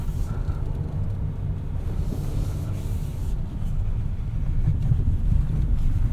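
2026 Hyundai Palisade XRT Pro three-row SUV accelerating on a dirt trail, a steady low engine and road rumble that builds slightly louder toward the end, with some wind noise.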